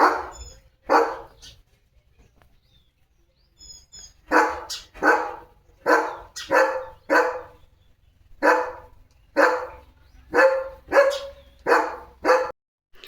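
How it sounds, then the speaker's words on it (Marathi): A German Shepherd barks repeatedly at close range: two sharp barks, a pause, then a steady run of loud barks in a regular rhythm. "चिवताईचा चाललाय नाश्ता आणि लिओ भुंकतोय तिला"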